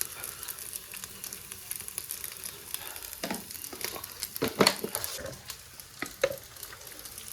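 Chillies and garlic fry in a pan with a quiet, steady sizzle and occasional stirring scrapes and clinks. A voice is heard faintly in the background.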